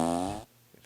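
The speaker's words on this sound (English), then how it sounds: "fart machine. That's a good one." A fart machine blurts a single loud, buzzy, rasping toot of under half a second, followed by near silence with a couple of faint clicks.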